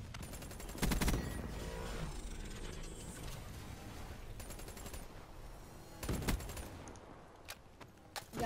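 Peacekeeper gun firing in Call of Duty on the Nuketown map, short bursts of gunfire at moderate distance separated by quieter stretches of clicks and mechanical handling noise.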